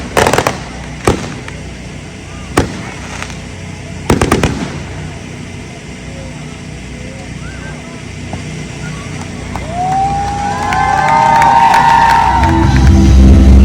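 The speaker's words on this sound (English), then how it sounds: "We're gonna see some fireworks" Sharp firework bangs burst at intervals, a few in quick clusters, then a crackling rumble builds toward the end with a crowd murmuring and cheering throughout, at a Fourth of July celebration.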